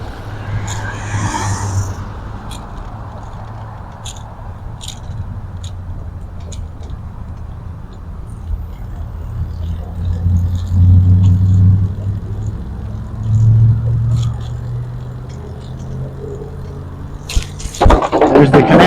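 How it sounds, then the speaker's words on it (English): Heavy traffic rumbles on the big Austin Bluffs Parkway overpass, a continuous low roar of cars that swells as vehicles pass nearby, with occasional clicks and a sharp noise near the end. "This is the Austin Bluffs Parkway, this big, huge"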